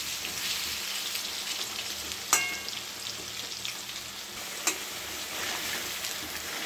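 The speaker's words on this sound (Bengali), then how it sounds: "লাল লাল করে একটু ভেজে নিই আলুটাকে" Potato pieces frying in hot oil give a steady close sizzle and crackle throughout, with two brief louder pops or clinks.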